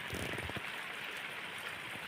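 Rain falls steadily over forested countryside near farm fields, a soft, even hiss throughout, with a few low knocks at the start.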